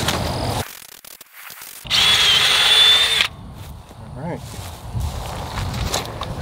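A drill bores through a steel gate post in one loud burst of about a second and a half, between quieter stretches of handling noise, shuffling footsteps and faint outdoor sounds.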